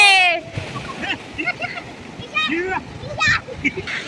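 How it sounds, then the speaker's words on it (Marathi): Sea waves splash onto Kovalam beach in Kerala: a broad, rushing wash of water with surging bursts, overlaid by lively voices and chatter from people nearby. "आली बघा लाट आली"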